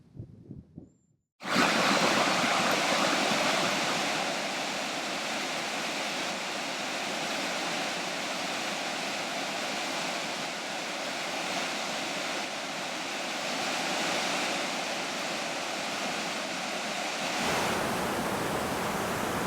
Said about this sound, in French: On est présentement au bord de la chute du Saut, sur la rivière Horton.